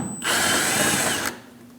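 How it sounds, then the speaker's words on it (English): A power tool with an 8mm socket spins out the bolt on the bottom corner of a Dodge Durango bumper, one steady loud whirring burst lasting about a second, close by, with no talk. "Using an 8mm socket, we're going to remove the bolt on the bottom corner of the bumper."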